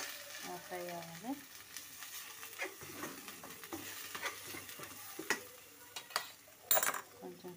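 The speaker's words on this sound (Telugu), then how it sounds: "అల్లం వెల్లుల్లి పేస్ట్ బాగా వేగాలి." Ginger garlic paste frying and being stirred in a pan, a soft steady sizzle with scraping of a spoon, under quiet background.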